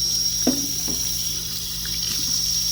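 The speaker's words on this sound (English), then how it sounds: "rinse the cup" Water runs steadily from a tap, with a couple of brief knocks and splashes near the start as a painting water cup is rinsed under the stream.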